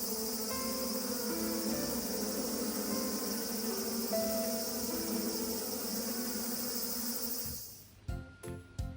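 Japanese honeybees hum at a hive box in August, a steady, dense buzzing drone that carries on for several seconds. Near the end it gives way to a few sharp knocks and clicks.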